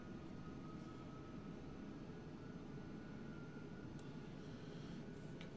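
Engines on a laden Boeing 747-200 in Flight Simulator X held spooled at about 75% throttle on final approach, circling to land at Innsbruck. They give a faint, continuous, even drone with no break.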